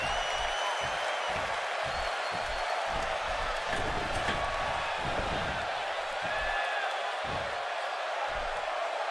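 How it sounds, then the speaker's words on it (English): A dense arena crowd roars at a wrestling match in WWE 2K18, set in Dayton during a Xavier Woods bout. The cheering is a constant wash with repeated low thuds from the ring, and commentary runs over it. "if you think this Dayton crowd has been loud so far, just wait until this match heats up"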